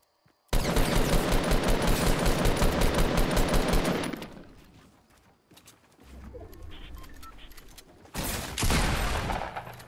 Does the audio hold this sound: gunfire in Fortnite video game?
yes